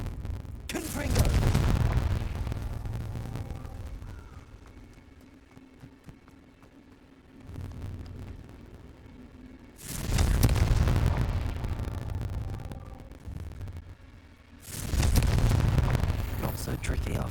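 Confringo fire spell blasts in Hogwarts Legacy: three heavy booming explosions, each with a long rumbling tail, loud and close, separated by quieter stretches with faint background voices.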